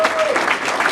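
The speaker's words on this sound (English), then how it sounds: "Let's give these guys one more round of applause." Audience members clap together in a brief, steady burst of applause at a group gathering, dense and moderately loud with a voice faintly underneath.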